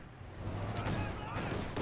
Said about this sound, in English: S-mines detonate again in the centre